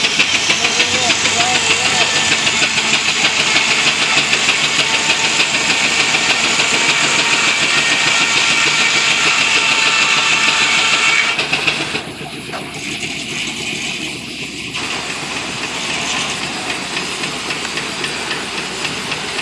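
A sawmill at a farm show runs with a loud, steady engine chug and hissing whine that drops off partway through, leaving a lower mechanical rumble; speech is faint beneath it.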